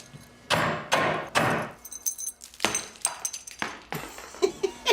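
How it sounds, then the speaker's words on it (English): A hammer smashing a watch: a series of sharp, hard blows, several heavy strikes followed by quicker, lighter hits with a faint glassy crackle, close and loud. "I'm gonna get a hammer and I'm gonna smash it up."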